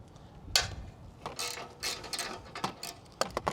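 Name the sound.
socket wrench ratcheting exhaust nut on Honda Fury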